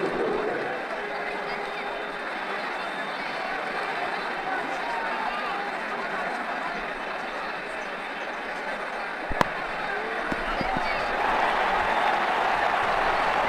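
Steady roar of a packed stadium crowd at a cricket match in Ashes Cricket 2009, an IPL game between Mumbai Indians and Rajasthan Royals, a continuous even wash of murmuring and cheering with a brief sharp knock near the end.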